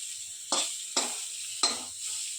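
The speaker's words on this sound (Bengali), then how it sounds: "বাবা ভাজছে শাক" Leafy greens fry in a pan with a constant close sizzle, punctuated by three sharp spatula stirs that briefly flare the crackle; no one speaks.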